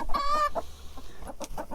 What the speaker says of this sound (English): So I'm gonna feed the chickens some corn